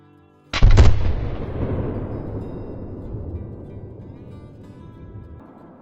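A single sharp, loud muzzleloader shot cracks out while hunting axis deer, followed by a long rolling echo that slowly fades across the open terrain.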